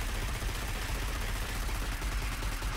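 Steady, dense automatic gunfire in the Destiny beta on the Moon, a loud continuous rattle of rapid shots filling the whole stretch with no voices.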